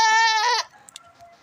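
A young fresh-cross female goat with two teeth bleats once loudly and close, a harmonic cry lasting over half a second, followed by faint rustling and a quiet low tone.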